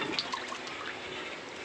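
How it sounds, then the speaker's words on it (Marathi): Water is poured into a pot of hotel-style chicken curry, a short, steady close splash and gurgle of liquid that continues unbroken to the end. "टाक पाणी टाक"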